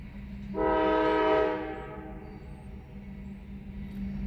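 A CSX freight train creeps slowly up a northbound grade, its horn sounding one loud sustained blast before the low rumble of the engines carries on underneath.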